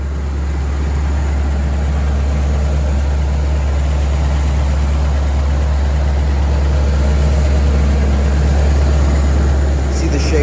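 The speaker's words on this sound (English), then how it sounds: "Show you the engine running." A 1978 Pontiac Trans Am with a shaker hood idles steadily, a loud, constant low rumble with a deep droning hum and no revving, heard up close for about ten seconds.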